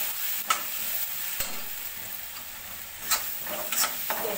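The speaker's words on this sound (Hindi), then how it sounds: "ये मैंने हल्दी डाल दी, इसे भी मिक्स कर लेती हूँ।" Chillies, turmeric, cumin and spices fry in a pan for a vegetable biryani, a continuous soft sizzle with occasional scraping taps of a stirring spoon against the pan.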